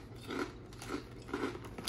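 Someone chews a crunchy Indonesian snack close up, making several quiet, irregular crunching bites with soft crackles between them, faint and with no talking.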